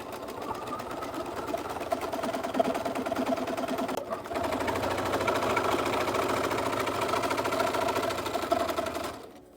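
A sewing machine runs steadily as it stitches the seams of a Barbie Swan Lake inspired dress, a close, loud, continuous mechanical whir with one brief hitch partway through before it stops at the end.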